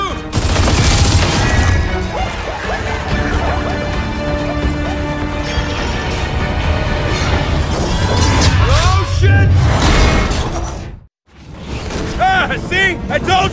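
Heavy, dense gunfire and explosive crashes from the video game Gears of War 4, loud and nearly continuous with whooshes and impacts, cutting out briefly near the end before the battle noise resumes.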